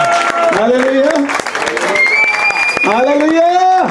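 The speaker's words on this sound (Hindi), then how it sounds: "जोरदार तालियां इस बात के लिए बजाएं" At a church wedding service, a congregation claps for the couple under a loud, sustained voice calling out over the crowd.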